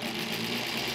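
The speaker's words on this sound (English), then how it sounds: "It's a home sewing machine." A 1938 Kenmore model 38 home sewing machine runs steadily at close range, its fast, even mechanical whir holding a constant level throughout with no pauses and no voices.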